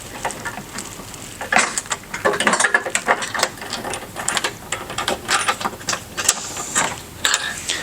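A ratcheting power screwdriver driving a screw into a fender mount hole on a 2024 Toyota Tacoma while installing mud flaps, giving bursts of close mechanical whirring and clicking with brief pauses between them.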